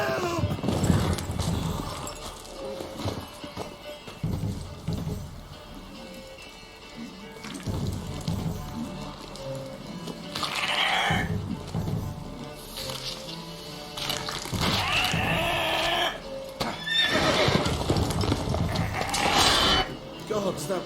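Horse in The Witcher 3 video game snorting and whinnying with hooves clopping, mixed with game music and ambient noise, moderately loud throughout.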